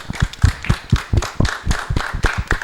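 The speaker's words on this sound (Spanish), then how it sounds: "un fuerte aplauso para ustedes" Rhythmic, evenly spaced claps that sound like a small group clapping in unison at a Spanish-language youth TV show about hip hop dance, with sharp close hits and no talking.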